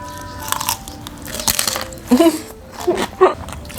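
Crispy deep-fried pork leg being bitten, giving a few sharp crunchy bites in quick succession up close, with chewing between them and talk in the background.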